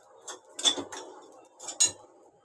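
A few sparse metallic clinks and scrapes come from a utensil stirring in a pan while ingredients are roasted for khandoli, a traditional Konkani rice dish. The sounds are faint and close, with quiet gaps between them.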